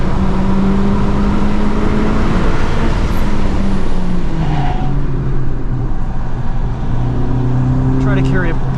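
A 2023 FL5 Honda Civic Type R on FK460 all-season tires laps a wet, flooded track, its engine droning steadily from inside the cabin, with pitch shifting as it accelerates and eases off over a constant wash of road and tire noise.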